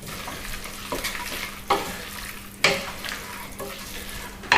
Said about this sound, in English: Stir it in until it's completely dissolved.